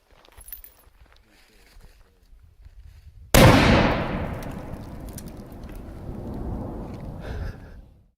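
An M-80 firecracker outdoors goes off with a single loud, sharp blast after a few seconds of quiet rustling and faint movement, followed by a long fading rumble and echo rolling out over several seconds.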